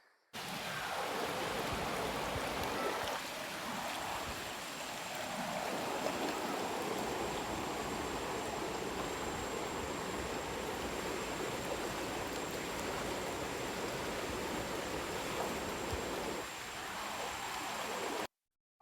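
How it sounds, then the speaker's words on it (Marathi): Steady rushing of a flowing stream, continuous and fairly close, with no voices over it. "इथे बाजूला पाणी वाहत आहे सो त्याचा तुम्हाला आवाज ऐकवतो"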